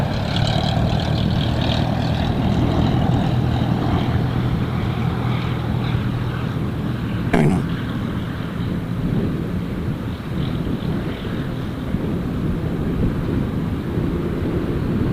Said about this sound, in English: I think this landing will indicate how strong the winds, or the crosswind is actually.